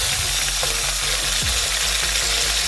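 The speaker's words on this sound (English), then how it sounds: "We'll be frying this chicken on both sides for 2 minutes each." Loud, crackling sizzle of chicken frying in hot oil, close up and continuous, with a few soft clinks and no voices.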